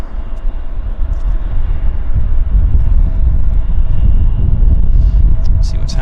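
A Q400 turboprop airliner landing at Vancouver Airport, a loud continuous low engine rumble and roar heard over wind noise, with faint talk beneath.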